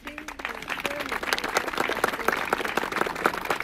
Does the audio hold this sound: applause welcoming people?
yes